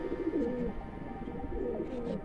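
A male pigeon coos while held in the hand, giving two soft, throaty rolling coos close by over quiet room noise.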